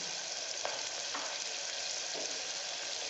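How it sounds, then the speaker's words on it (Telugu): Beans and peas curry frying in a pan, a continuous close sizzle with a few soft stirring scrapes, no voices. "ఇది బాగా ఫ్రై అయ్యాక ఇది ఫ్రై కావాలంటే కొద్దిగా సాల్ట్ వేయండి"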